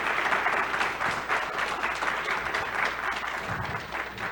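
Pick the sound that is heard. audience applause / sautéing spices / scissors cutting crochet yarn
audience applause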